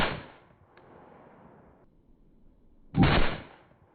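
A .40 S&W pistol loaded with 8.5 grains of CFE Pistol fires during load testing, one sharp shot with a trailing outdoor echo, then a second loud report a few seconds later, heard at moderate distance.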